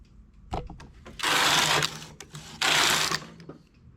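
A knitting machine works a ribbed summer top, its carriage making two loud sliding rasps in succession, each about a second long, separated by quieter clicks and handling knocks, with no talking.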